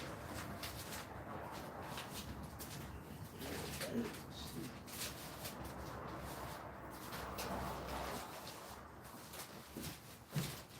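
Pigeons coo in soft, repeated calls while birds are being cleaned out, with shuffling and rustling handling noise mixed in throughout.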